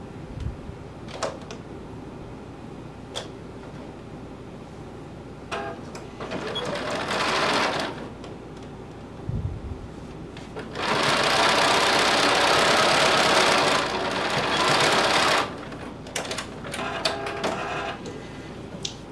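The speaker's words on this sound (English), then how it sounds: "Backstitch at both ends, sew the other side." A home sewing machine runs in several bursts, stitching a shirt seam at 5/8-inch allowance with backstitching at both ends, a steady mechanical whir with pauses and small handling clicks between runs.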